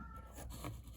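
A cat named Racy gives a single faint, drawn-out meow in a quiet indoor room, heard alone and at low volume.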